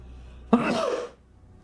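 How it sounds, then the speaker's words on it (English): A single sharp sneeze, sudden and close, bursting out of near-silence and trailing off within about half a second. "And a sneeze."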